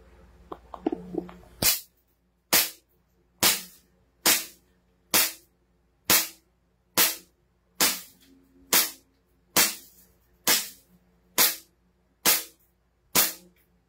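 A Kimber 1911 pistol fires twelve evenly spaced, sharp shots, each a loud crack with a short decay, paced roughly one per second after a brief bit of handling noise.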